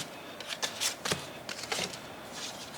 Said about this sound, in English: Then we have to put all our cards away, and all our waybills